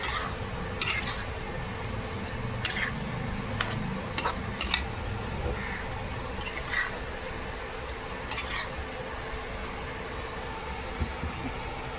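Ingredients in a pan mixed gently with a utensil for a gravy dish, giving soft intermittent scrapes and clinks over a low steady background hum.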